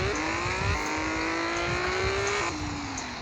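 A car engine in a mobile racing game revs at a steady high pitch, stepping briefly up and then down again near the end, with faint tire and road noise beneath and no talking.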